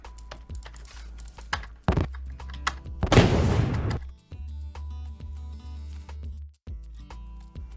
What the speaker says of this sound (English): We could even theoretically do a double explosion, which I do kind of like.